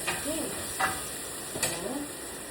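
Garlic fries in a pan with a soft sizzle and hiss under a few stirring scrapes and clinks, moderately close and fairly quiet.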